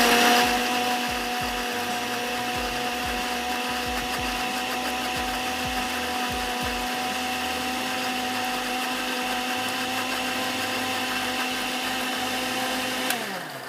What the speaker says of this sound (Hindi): अगेन इसको हमने अच्छा सा ब्लेंड करना है